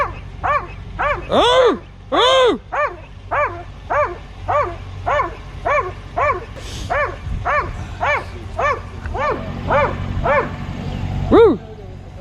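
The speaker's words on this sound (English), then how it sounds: "You didn't know there was a dog in there?" A dog barks during a roadside encounter with police: about fifteen loud, close barks come in a steady rhythm, a few with a higher yelping edge, while a man briefly exclaims over them.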